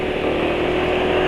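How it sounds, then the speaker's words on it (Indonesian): A motorcycle engine running on Petronas Sprinta 4T 10W40 synthetic-blend oil holds a steady, smooth, close-up drone at constant speed throughout a short stretch. "suara mesin sudah nggak sekasar kemarin"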